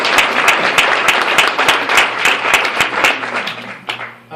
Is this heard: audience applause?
yes